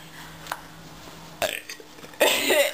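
Several burps from a person after drinking Worcestershire sauce, a short one early and louder, longer ones later, close and distinct against a quiet background.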